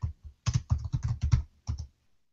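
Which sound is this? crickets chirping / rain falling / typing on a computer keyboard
typing on a computer keyboard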